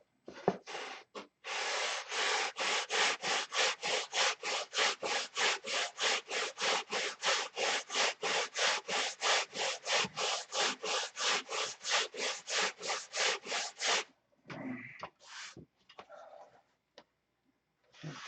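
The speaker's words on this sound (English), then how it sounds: "Of course, it's not flat, so we're going to have to sand that flat." A wooden boat headrest is sanded flat by hand in long, steady back-and-forth strokes, about thirty rhythmic rasping passes heard up close, followed by a few scattered knocks and scrapes. No talking is heard.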